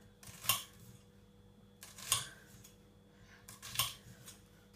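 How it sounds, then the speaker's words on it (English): A knife chops onion and pepper on a cutting board in a home kitchen while pizza is being prepared, giving three sharp, separate cuts about a second and a half apart against a low, steady background hum. "I'm not very good at chopping onion"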